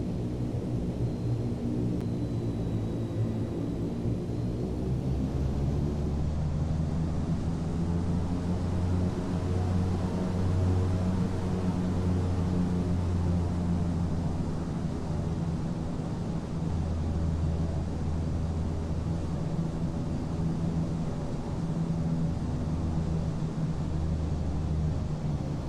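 A steady, droning airplane engine roars during takeoff in a flight simulator, moving from Newcastle toward Belfast, with a constant broadband rumble that swells slightly as power builds and no talking.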